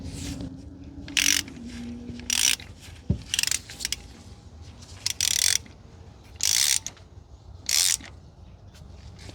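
A ratchet wrench tightens car spark plugs during a routine service, giving about seven short, close bursts of rapid clicking separated by pauses, with no talking.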